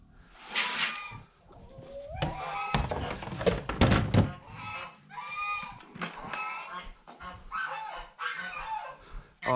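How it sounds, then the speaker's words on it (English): A flock of farm geese honk loudly and close by in a noisy, overlapping chorus, with repeated bursts of harsh calls and some thumping noises among them. "The geese do get quiet too, I promise."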